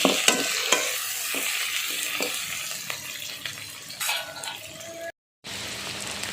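Onions and green chillies sizzle in oil as a spatula stirs them, sharp scraping clicks repeating over a steady close frying hiss, with a brief silent gap near the end.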